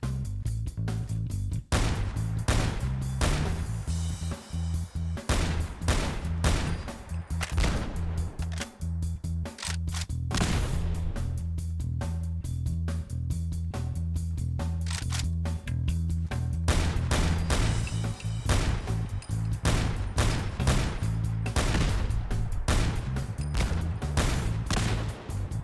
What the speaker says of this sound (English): I'm going to be firing the MK14 at these defenseless gasoline canisters in first person and third person view.